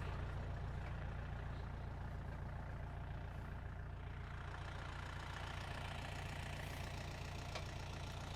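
A low tractor engine idles steadily and faintly, a continuous rumble with no voices and no change in pace.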